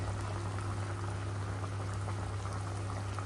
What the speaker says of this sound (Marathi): त्या पाकामध्ये जेवढं ते त्याला सुटेल पाक तेवढ्याच पाकामध्ये शिजून घ्यायचा.